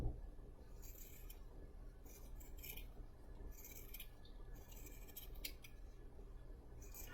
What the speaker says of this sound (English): I'm just going to cut this into a circle.